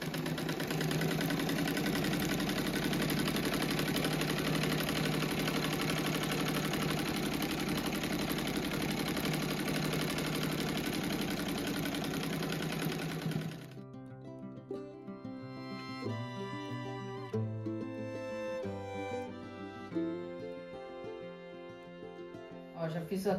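A sewing machine stitches a patchwork quilt seam, running as a loud, steady, continuous whir for about thirteen seconds before stopping abruptly, after which music plays.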